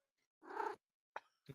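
A cat gives one drawn-out meow, close and fairly loud, followed by two short, softer sounds after a pause.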